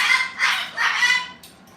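Chickens clucking and squawking close by in a few quick, bright bursts.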